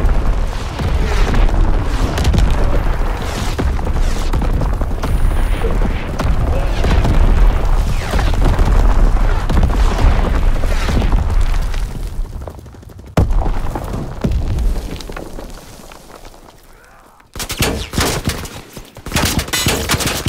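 Artillery barrage in the Call of Duty WWII video game, with continuous heavy booms and rolling explosions mixed with gunfire. The roar is loud and dense, dips briefly, then bursts back in.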